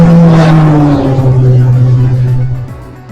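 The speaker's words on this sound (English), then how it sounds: "all because you're driving a Maserati doesn't mean you can just speed around" A Maserati car speeds past close by, its loud engine tone sliding downward in pitch as it goes and then fading away.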